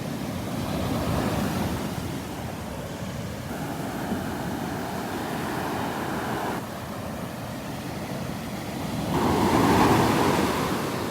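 Large ocean waves break on the beach at Naples, Florida, a broad, rolling roar that swells and recedes in long surges, with wind buffeting the microphone.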